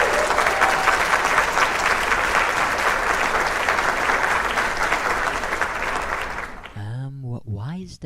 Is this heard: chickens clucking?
no